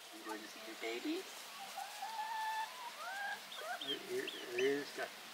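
Chickens, including two little roosters, cluck and trill close by in soft, scattered bursts throughout, over a faint steady background hiss.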